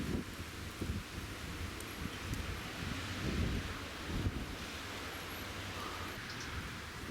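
Strong, cold wind blows outdoors in Volterra, Italy, a steady broadband roar with gusts swelling and buffeting the microphone throughout, with no other distinct sounds above it.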